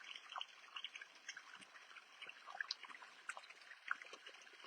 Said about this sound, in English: Turn off the hose real quick